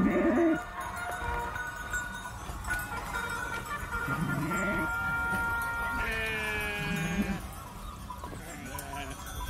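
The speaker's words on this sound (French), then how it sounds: "au même moment où les moutons rentrent et qu'on a toutes les cloches des moutons" Flock of sheep returning to the fold in Sardinia with many bells, heard as a continuous mix of bleats and clinking bells near and far, with bird calls throughout.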